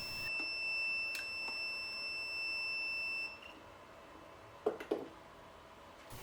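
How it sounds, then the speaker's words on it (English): A thin, high electronic multimeter beep on probe contact holds steadily for about three seconds, then cuts off, leaving faint room noise and a couple of soft clicks. "the multimeter beeps when contact is made."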